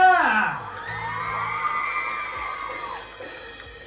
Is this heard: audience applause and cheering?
yes